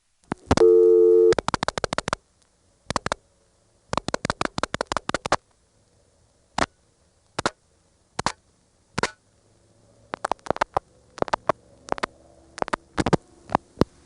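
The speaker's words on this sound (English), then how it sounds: "let's try rotary dialing a call to the 629 step" Rotary dialing through an ITT Pentaconta crossbar switch from 1977 produces a burst of tone followed by groups of sharp, evenly spaced dial pulse clicks separated by pauses, loud and close with no talking.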